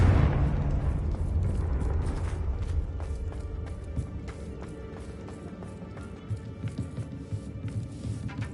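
A Confringo blasting spell detonates in Hogwarts Legacy with a loud, deep explosive boom at the start, its rumble slowly decaying under crackling debris and scattered small impacts.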